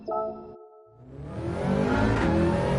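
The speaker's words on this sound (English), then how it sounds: "WRX got a sound all of its own." Subaru WRX engine revving hard at a race, a rising roar building after a short quiet gap and staying loud and close to the end, with a brief harmonic whine at the start.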